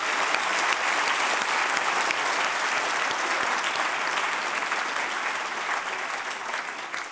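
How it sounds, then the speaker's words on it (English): A round of applause for the panelists at a book launch, a dense, steady wash of many hands clapping together throughout, loud and close with no talk over it. "Can we give a round of applause for our panelists?"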